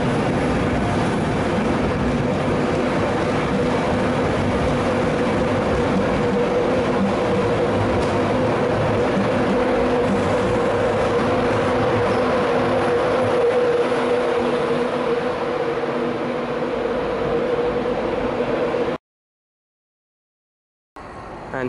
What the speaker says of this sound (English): And I think another one is arriving over on the other platform.